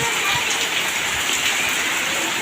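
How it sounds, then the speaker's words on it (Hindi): Heavy monsoon rain pours down steadily in a village in Samastipur district, Bihar, a dense continuous hiss with patter on surfaces, loud and close throughout with no voices. "मूसलाधार और शानदार बारिश हो रही है"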